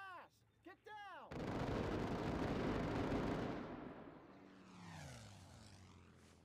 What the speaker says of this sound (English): That German plane's coming in for a pass!